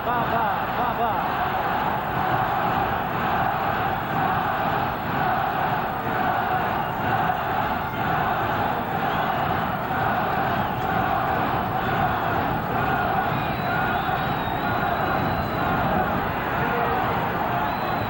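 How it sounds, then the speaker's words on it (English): Boxing arena crowd chanting "Baba, Baba" during round five of an Alexis Arguello fight, a dense, steady roar of voices that keeps up throughout without pause. "Crowd chanting, "Baba, Baba.""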